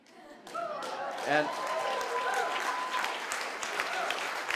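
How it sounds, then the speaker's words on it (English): Audience applause at a community celebration of a city's purchase of Chuckanut Ridge, a wooded parcel, rising after a brief spoken word and holding as steady clapping from a crowd for several seconds. "they do deserve applause for that"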